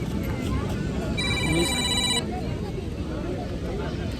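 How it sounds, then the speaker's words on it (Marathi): A mobile phone ringtone sounds for about a second with a bright repeating chime over beach wind and crowd noise, a call coming in from home. "अशा प्रकारे घरून फोन आलेला आहे, कुठे आहेस करून."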